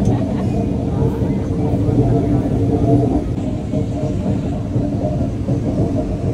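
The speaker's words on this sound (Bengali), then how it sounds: "দেখো দেখতে দেখতে কিন্তু ট্রেনটাও চলে গেল।" A train pulls out of a railway station, a steady low rumble and rolling roar running throughout without letup, close and loud.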